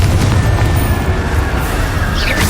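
Confringo spell explosions in Hogwarts Legacy, loud booming blasts with crackling bursts layered in quick succession, filling the whole stretch without any voices.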